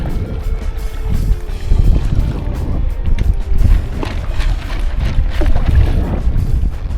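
A kayak is paddled through choppy, rolling waves, with loud wind buffeting the microphone and irregular water sloshing and splashing close by for several seconds.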